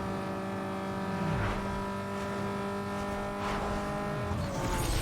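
A car engine in the Need for Speed Underground 2 video game drones at high revs, a steady loud harmonic whine that swells and dips slightly, with faint tire and road noise beneath.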